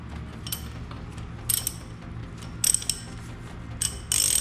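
A ratchet wrench loosens rusted bolts on a Formula Vee engine in a garage. Several short bursts of close clicking ratchet strokes come between quieter pauses, with faint metallic creaks.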